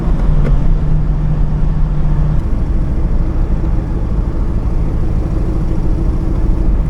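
A Holden Torana with a four-speed manual gearbox runs steadily from inside the cabin, its engine giving a constant, fairly loud low drone with a brief higher tone early on and no voices.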